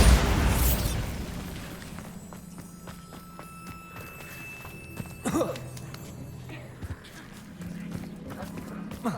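A Bombarda spell explodes in Hogwarts Legacy with a loud initial blast that decays into rumbling debris, followed by a second sharp burst and scattered clatter over ambient game sound.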